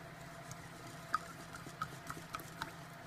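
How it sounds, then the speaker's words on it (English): A wooden hashi chopstick stirring ascorbic acid powder in a container, producing faint, irregular light clicks and taps spread across a quiet background. "And I use a hashi to stir it with."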